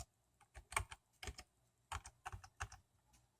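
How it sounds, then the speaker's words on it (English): One-finger typing on a computer keyboard: scattered, uneven key taps, a few in quick pairs and others spaced apart, faint and close with no voices. "You have to excuse my typing. I'm doing it with one finger."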